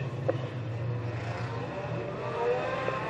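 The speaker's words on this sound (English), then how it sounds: "Somebody with a terrible misfire." A race car at Standlake Arena with a terrible misfire, its engine droning and stuttering unevenly from a distance with a steady low growl and occasional rough pops.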